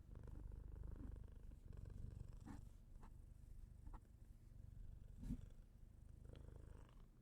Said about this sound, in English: Can you hear the cat purring?